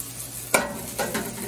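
Chopped hot dogs fry in a pan with a steady low sizzle, broken by a few sharp scraping stirs of a utensil against the pan, close and with no talk.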